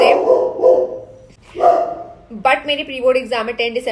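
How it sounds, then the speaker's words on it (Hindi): A pet dog barks and yips in short bursts, fairly close and loud, while someone talks over it indoors. "और इसको हमेशा भौंकना होता है जब मैं वीडियो बना रही होती हूँ."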